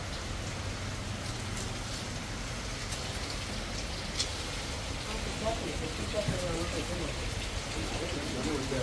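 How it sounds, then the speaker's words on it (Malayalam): Rain falls steadily as a soft, continuous hiss in the background, with faint patters and a voice briefly speaking. "മഴയാണല്ലോ അച്ഛാ"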